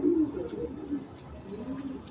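Pigeons in a loft, including Maxi, Jabra and silver birds, give a short, soft, close-up cooing call over a low hum.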